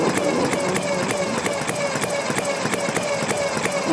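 A small engine idles steadily at around 900 RPM, a continuous close, loud rumble with rapid regular pulsing and no pause throughout.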